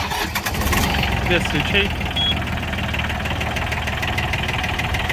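Tractor diesel engine cranking and catching, then settling into a steady, knocking idle of around 750 rpm; someone speaks briefly in Russian near the start over the engine noise.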